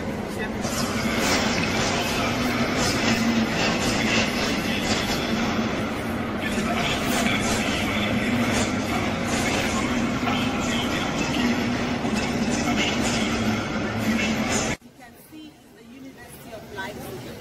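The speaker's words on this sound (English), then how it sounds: "A lot of trains come and go 1 to 4 hours a day." Busy concourse at Leipzig main train station, one of Germany's large stations, with trains arriving and departing amid a steady crowd hubbub and voices until it cuts off near the end.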